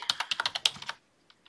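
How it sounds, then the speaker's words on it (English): Rapid typing on a computer keyboard, about nine crisp evenly spaced keystrokes up close, then a pause and two faint final taps. "I'm going to type in happy. I'm going to hit enter and birthday."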